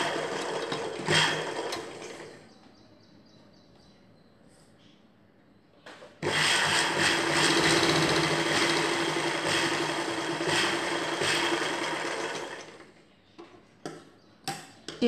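An electric sewing machine stitches folded hem edges on a ghagra choli, a short burst followed by a pause and then a long, steady close run of rapid needle clatter, ending with a few sharp clicks.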